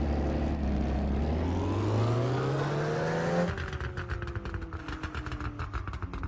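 Engine of a car in the racing game Live for Speed revs up in a rising tone, then cuts off into a rapid, crackling run of exhaust pops and bangs on the overrun, loud and close with no talk.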